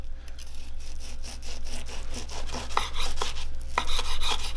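A knife slices rested tri tip, grilled on a Big Green Egg, into quarter-inch pieces, giving repeated soft rasping strokes against the board at a steady, close rhythm with no talking.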